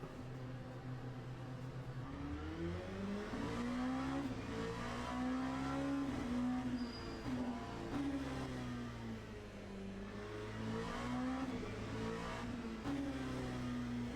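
An LMP2 prototype race car in Le Mans Ultimate, played in VR, drones steadily from inside the cockpit, its engine pitch rising and falling through gear changes, continuous and fairly quiet with no talk.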